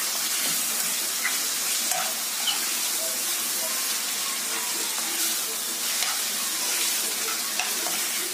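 Food searing in a hot frying pan while being cooked through in batches, giving a steady, close sizzling hiss with small crackles and spits throughout.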